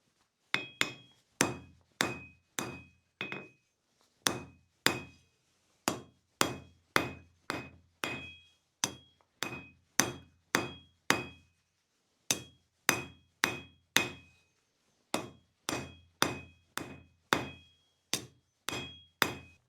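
Hot forged metal for a hand-forged dragon candle holder is hammered to a tapered point, a steady series of sharp, ringing hammer blows struck in quick groups with short pauses between, close and clear with no voices.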